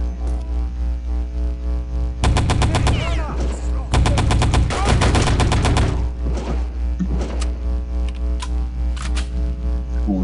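Double Colt pistols fire in Return to Castle Wolfenstein, two dense rapid bursts of sharp, evenly spaced shots separated by a short pause, loud over a steady low hum, followed by a few scattered single clicks.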